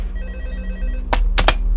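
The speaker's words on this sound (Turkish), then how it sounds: "Telefon çalıyor." A telephone rings in the video game Five Nights at Freddy's 2, two sharp, loud bursts close together rising over a low humming background, with no talk.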